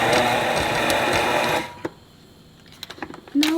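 A stand mixer paddle churns gluten-free bread dough with a steady motor whir and rattle, then cuts off abruptly, leaving a few light clicks and knocks in near silence.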